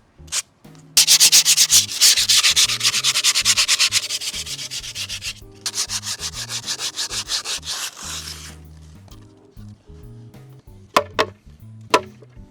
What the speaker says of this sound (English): I always do one layer of sanding.